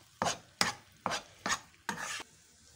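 A spoon works through a cornflour paste in five distinct rhythmic strokes, each a short scraping swish, close and fairly quiet with no one speaking.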